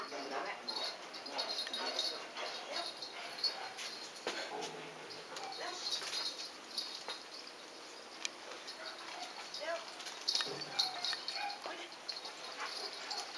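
A dog whimpers and lets out short yips and barks, faint and somewhat distant, amid a busy indoor background with people talking.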